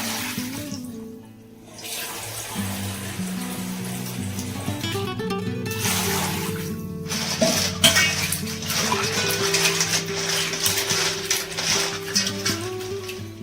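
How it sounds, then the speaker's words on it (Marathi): Water sloshing and splashing in a metal pot as crabs are rinsed, with clanks and scraping against the sides. "दोन तीन पाण्याने त्याला खळखळून धुवून घ्यायचे आपल्याला"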